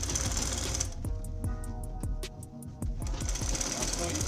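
A sewing machine runs a sleeve seam on a senator top, with a steady mechanical chatter that pauses briefly for a few separate clicks before running again at close range.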